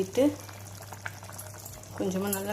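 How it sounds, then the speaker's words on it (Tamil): Village-style crab gravy boils in a pot with a soft, steady bubbling close by, while a voice talks over it at the start and again near the end. "குழம்பு நல்லா கொதிச்சிருச்சு"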